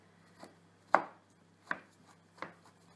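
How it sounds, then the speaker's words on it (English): A knife chops mushroom stems on a cutting board in a home kitchen, four separate sharp thuds spaced unevenly, close and clear in an otherwise quiet room. "I finished chopping up my stems."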